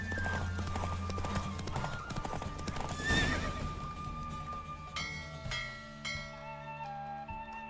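Hooves clip-clop rapidly as a horse gallops in The Witcher 3: Wild Hunt, with a whinny and a bright bell-like chime over layered music.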